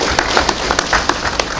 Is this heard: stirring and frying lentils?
no